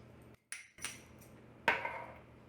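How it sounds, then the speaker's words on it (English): A spoon scrapes and clinks against a pan while salt and pepper are stirred into a southern-style gravy, a few sharp metallic knocks and scrapes, close and fairly quiet, with no voices. "stir all that together"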